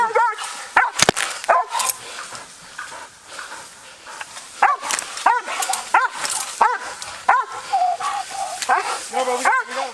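Police dogs barking and yipping excitedly at a roadside stolen-vehicle suspect arrest, loud close barks mixed with whimpers while officers talk over them.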